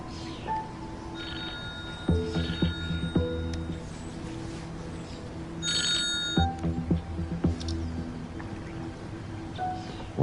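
A telephone rings in a tense standoff scene, repeated electronic ringing bursts in a steady pattern over low background hum, fairly close and clear, with no talking over it.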